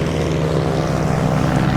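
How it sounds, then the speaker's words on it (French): A propeller airplane in flight over Plouguerneau sustains a loud, steady droning engine hum throughout, with no talking. "Et l'avion continue en pilote automatique."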